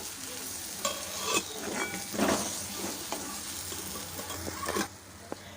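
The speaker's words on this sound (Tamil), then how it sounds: "வெள்ளத்தை சேர்த்துட்டு நல்லா மிக்ஸ் பண்ணி விட்டுக்கோங்க" Curry leaf thokku with jaggery, cooked in sesame oil, is stirred in a pan: quiet, continuous scraping and stirring over a soft sizzle, with a few sharper taps of the spoon against the pan.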